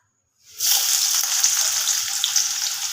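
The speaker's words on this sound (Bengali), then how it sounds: "ঘিটা মেল্ট হয়ে গেছে আমি এখানে দিয়ে দেব কুচনো পেঁয়াজ" Chopped onion dropped into hot melted ghee bursts into a loud, steady sizzle that starts abruptly and holds bright and close for a few seconds, with no talk.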